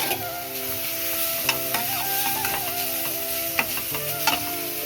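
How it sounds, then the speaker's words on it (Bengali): Soup vegetables are stirred and sautéed in butter, giving a continuous close sizzle with a steady hum underneath and a few sharp scrapes and taps of a spoon against the pan. "সবজিগুলো ভালো করে একটু নাড়াচাড়া করে নেবো।"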